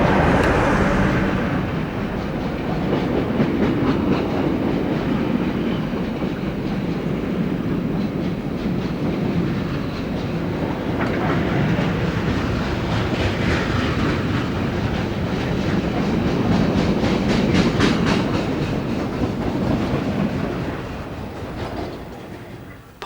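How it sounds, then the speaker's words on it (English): A heavy Class 47 diesel locomotive rumbles past hauling a long engineering train of wagons, steady clattering of wheels on rails throughout, gradually fading at the end. "Heading for Cricklewood is a Res 47 with an engineer's train from Temple Mills."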